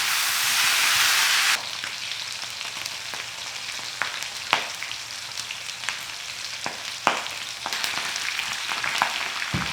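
Pork belly (liempo) searing in a pan, fat rendering out as it browns: a steady, dense sizzle and crackle throughout, with scattered sharper pops and spits, close and fairly loud with no talking.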